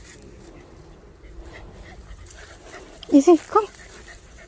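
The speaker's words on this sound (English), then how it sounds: "And there are dogs again." Dogs near a French chateau give a few quick barks or yelps toward the end, after quiet moments with a person speaking softly.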